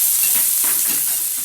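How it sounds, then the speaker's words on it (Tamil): Large green chillies saute in oil with salt for a chilli poriyal, a loud close hiss and sizzle with soft stirring swishes rising and falling over a brief moment. "இன்னும் கொஞ்சம் வந்து நல்லா வதங்கட்டும்"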